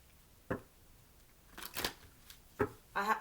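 Romance Angel oracle cards being shuffled and handled, a few brisk riffling swishes and flicks, close by with no voices.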